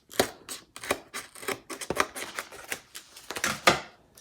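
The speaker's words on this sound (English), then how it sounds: "So cut it as close as you can to that tray." A series of sharp, crisp snips and clicks in an irregular rhythm, close by, as scissors cut thin plastic close to a rolling tray.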